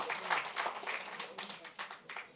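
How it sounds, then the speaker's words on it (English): A round of applause from the audience at a youth economic summit, soft and somewhat distant, with a steady patter of clapping rising and falling over a couple of seconds. "a round of applause"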